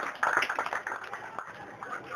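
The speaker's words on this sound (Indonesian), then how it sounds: "Mari kita berikan tepuk tangan." Brief scattered clapping from an audience at a children's scripture-reading competition, a few seconds of patchy hand claps that stay fairly soft and thin rather than building into full applause.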